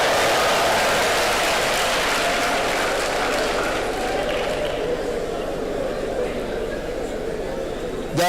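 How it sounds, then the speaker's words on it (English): A lecture audience claps steadily, and the sound fades gradually over several seconds. Strong applause fills the room, with voices mixed in. "Thank you for clapping for me."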